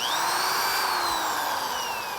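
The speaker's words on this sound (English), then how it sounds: "what I'm doing right now is just drilling a little pilot hole in the end of the dowel" A power drill runs continuously while boring a small pilot hole into the end of a wooden dowel, a loud steady whine with slowly shifting pitch and no pauses.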